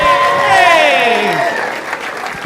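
A stand-up comedy crowd claps loudly for the comedian, a dense wash of applause mixed with rising and falling whoops and cheering voices that fade slightly toward the end.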